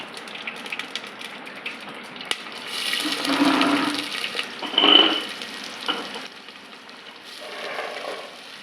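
Sliced onions dropped into hot oil already holding mustard seeds and fenugreek for a fish curry, with a quiet crackle that swells into a loud, rushing sizzle lasting a few seconds, then fades back to a low hiss.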